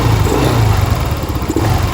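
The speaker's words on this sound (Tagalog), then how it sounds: "hindi nyo maririnig yung hagok nya kada every pihit nyo" A Mio MXi scooter fitted with a mushroom air filter, its intake roaring as the throttle is revved: a loud, steady engine drone with a throaty low rumble and slight rises and dips in revs, close up.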